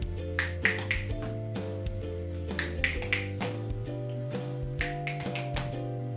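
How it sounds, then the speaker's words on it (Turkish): Crisp finger snaps land in a steady rhythmic pattern, some in quick pairs, over a continuous sustained musical backing. "Hatta altı yönünde iki kez parmak şıklatabiliriz."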